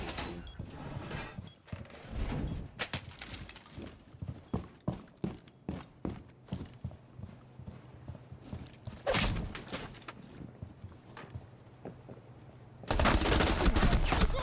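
Gunfire in the video game Rainbow Six Siege: a run of separate sharp shots in uneven rhythm, moderately loud, followed by a denser louder burst at the end.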